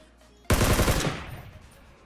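A sudden loud burst of rapid automatic gunfire in the video game Ring of Elysium, shots firing in quick succession for about half a second before decaying into a reverberant tail.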